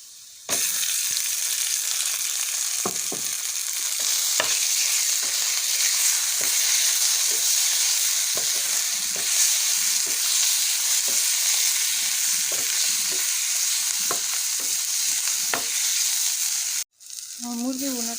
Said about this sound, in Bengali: পেঁয়াজটা এপাশে তেলের মধ্যে ভাজতেছি, ভাজা হয়ে গেছে। এবার হচ্ছে মাংসটা দিয়ে দিই।